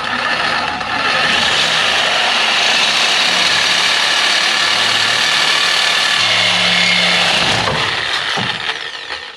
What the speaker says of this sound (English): quality Harbor Freight sawzall, Harbor Freight blades